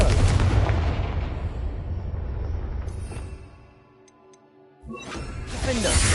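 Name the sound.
Confringo fire spell from video game Hogwarts Legacy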